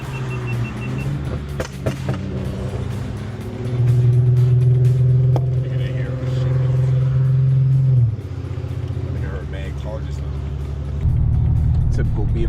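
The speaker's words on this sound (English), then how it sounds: "I'm misfiring." A BMW 335i with a misfiring engine heard from inside, a droning, uneven engine note that swells with revving, then drops and rises again, with someone talking over it.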